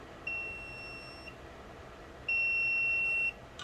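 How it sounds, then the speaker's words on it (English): Two thin, high electronic beeps from an egg incubator's low-temperature alarm, each lasting about a second, separated by a pause over a quiet background hiss. "Alright, it's beeping at me."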